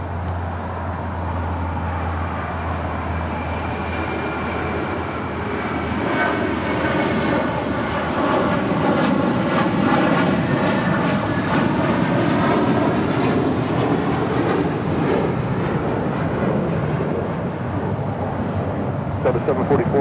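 A Boeing 777 departs from the south side at LAX, its jet engines building into a loud, sustained roar with a shifting whine across the middle, with some voices faintly underneath.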